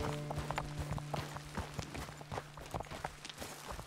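A horse walks on rough ground in Red Dead Redemption 2, with soft, fairly quiet hoof clops in an uneven rhythm over a low steady hum.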